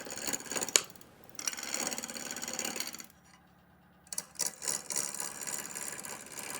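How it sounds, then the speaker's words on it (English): A wood lathe spins an out-of-round bowl blank slowly at about 700 RPM while a 3/8 bowl gouge cuts, giving an uneven scraping, rubbing hum that drops out briefly midway and then returns. "going really slow here because it's not round"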